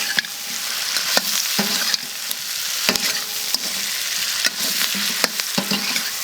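Ribs frying in a wok are stirred and tossed, a continuous loud sizzle broken by frequent scraping clanks of the spatula against the pan at an irregular rhythm.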